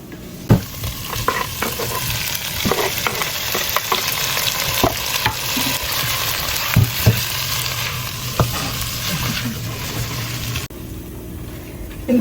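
Cumin seeds, dried red chilies and a bay leaf frying in hot oil in a pan, a steady close sizzle with occasional stirring clinks and scrapes, no talking.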